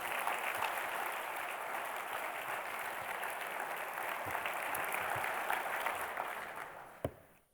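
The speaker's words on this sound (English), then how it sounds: "Let's give them a round of applause too." An audience at a regional planning council's State of the Region event gives public officials a sustained round of applause, dense clapping from a large crowd that holds steady and then quickly fades out.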